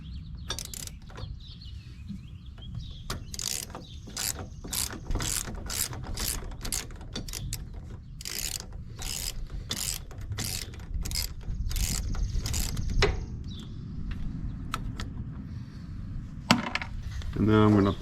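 Hand ratchet backing out a 5mm Allen set screw on a Polaris Ranger UTV brake, a rapid series of crisp metallic clicks in quick rhythmic runs with brief pauses, close up, ending in a few louder clanks.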